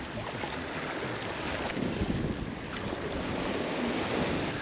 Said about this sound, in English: Nice to have the wind behind me for once.